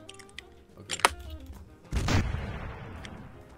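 Artillery cannon fire in the Blood & Iron video game: a sharp shot early on, then a heavy booming blast that rumbles and decays over the following seconds, loud and close, with no talking.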